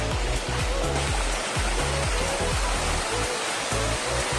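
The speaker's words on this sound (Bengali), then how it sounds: "তো ঝর্ণার আওয়াজ শুনলেই আপনারা হয়তো বুঝতে পারছেন" Khoiyachora waterfall in Sitakunda, Chattogram, roars as a steady, dense rush of falling water that fills the whole clip without pause.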